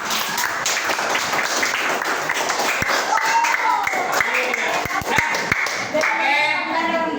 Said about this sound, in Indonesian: Beri tepuk tangan untuk Pak Leri ya.